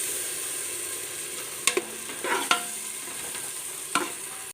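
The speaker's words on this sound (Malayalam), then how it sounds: "തൈര് നന്നായിട്ട് ഒന്ന് മിക്സ് ചെയ്ത് കൊടുക്കണം" Curd is stirred into a sizzling pan mixture while tuna biryani cooks, with a constant frying hiss broken by a few spoon scrapes and knocks against the pan.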